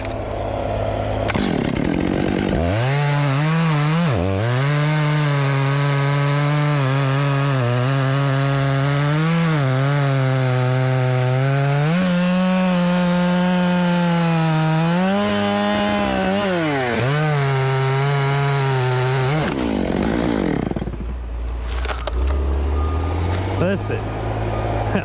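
A chainsaw roars close and loud while cutting timber with a chain dulled on steel pipe and dirt, engine pitch rising and dipping under load for about twenty seconds before dropping to a lower idle.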